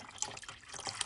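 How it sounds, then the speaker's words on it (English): Water runs and splashes as metal instruments are rinsed during a cold sterilization procedure, a brief, faint trickle with small drips. "we rinse them with water before we"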